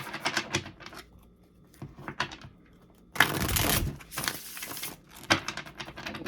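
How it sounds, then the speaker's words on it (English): Tarot cards being taken out and handled for a reading, giving a run of light clicks and taps, then a denser burst of riffling, shuffling rustle in the middle and a few more scattered taps near the end, close and fairly quiet. "Okay, I'll get the cards out first"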